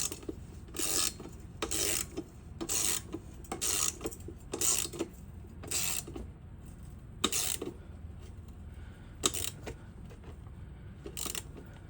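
A socket wrench tightens the blade bolt on a Dewalt lawn mower, giving repeated close, bright ratcheting bursts in short strokes with brief pauses between them.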